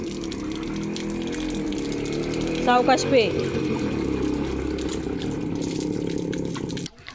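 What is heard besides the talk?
water tap running for the dog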